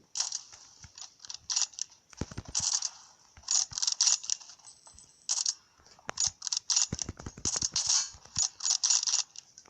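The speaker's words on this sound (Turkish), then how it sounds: "Adam bizi vuruyor." Enemy gunfire in PUBG Mobile rings out in sharp, crackling bursts and rapid clusters of shots at varying distances, broken by short quiet gaps. No voices.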